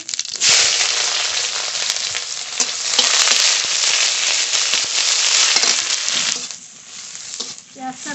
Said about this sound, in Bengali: তেল দিয়েছি এবার ফোড়ন করে নেব জিরে পেঁয়াজ কুচি